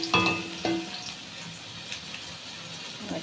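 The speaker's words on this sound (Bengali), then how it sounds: "ডালটা এই যে ফোড়ন দেবো" Mustard seeds and dried red chillies sizzle in hot oil for tempering dal, with a few close metallic clinks at the start, then a soft, steady crackle and spit that fades to a quieter sizzle.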